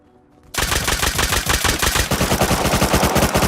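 Player gunfire in the video game Rust erupts suddenly after a quiet moment into rapid, rhythmic automatic bursts, loud and close, continuing without pause to the end.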